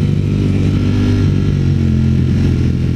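A Ducati Streetfighter V4S engine roars loud and close while riding, a dense continuous growl holding steady at high revs with no voices over it.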